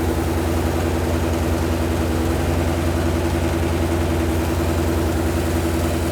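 A 1980s-era Suzuki Katana motorcycle engine, stored unused for 31 years, idles steadily at low RPM on its own, with an even, continuous throb throughout.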